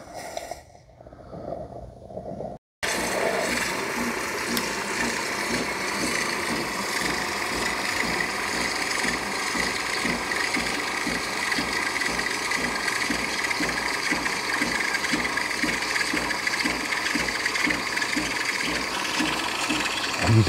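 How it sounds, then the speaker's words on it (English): Gourmia espresso machine frothing milk for a double latte, a steady mechanical buzzing pump with rapid rhythmic pulsing that starts abruptly after a brief quieter stretch and continues close and loud. "It's gonna froth the milk."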